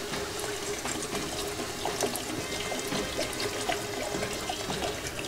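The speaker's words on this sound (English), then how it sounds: "So I'm going to go ahead and add some water." Water pours steadily into a pot of lima beans for baked Prespa-style butter beans, a continuous close trickling splash with no talk over it.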